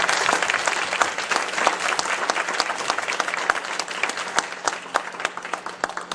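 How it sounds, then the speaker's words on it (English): A concert audience applauding the musicians after a performance, dense sustained clapping with sharp individual claps standing out, loud and continuous, no voices. "give them another round of applause"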